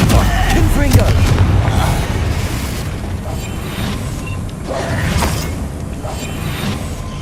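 Confringo fire spell blasts in Hogwarts Legacy, loud booming bursts amid ongoing combat noise, with a voice calling out over the rumbling explosions.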